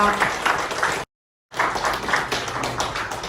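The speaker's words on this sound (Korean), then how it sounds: "우리 더욱 건강하시길 기원하는 큰 박수 다시 한번 부탁드리겠습니다." Applause from an audience at a Korean newspaper's anniversary ceremony and press award event, a steady dense patter of clapping that breaks off into silence for a moment and then resumes just as strongly.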